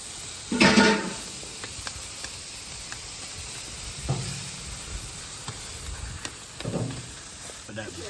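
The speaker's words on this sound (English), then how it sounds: "I'm just gonna put some beer, some red stripe beer right now." Red Stripe beer is poured into a hot cooking pot at an outdoor Jamaican cookout and hisses and sizzles in three short bursts, moderately loud over a quiet background.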